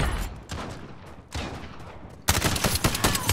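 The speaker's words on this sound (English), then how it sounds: "Oh wow, I just spawned into gunfire." Rapid bursts of gunfire in the video game Call of Duty: Modern Warfare crackle continuously, growing louder and denser in the final second as sustained automatic fire.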